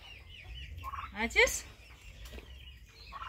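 A Big-6 turkey being handled gives a short burst of agitated clucking and squawks with a brief flurry of wing-flapping, fairly close and moderately loud, while a person speaks briefly nearby.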